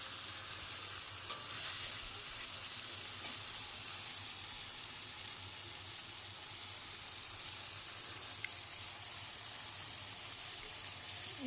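Masala for phulurir jhol sizzles steadily in hot oil as it is stirred and begins releasing oil, a constant close frying hiss with no voices.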